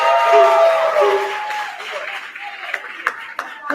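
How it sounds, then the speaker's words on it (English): An audience at a promotion day and graduation ceremony begins clapping as a speaker finishes talking, with a few scattered, sharp claps emerging near the end. "we just want to give her a round of applause"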